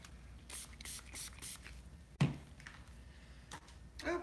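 A spray bottle mists soap in a few quick, close bursts of hissing spray, followed by a brief louder knock and a final spritz.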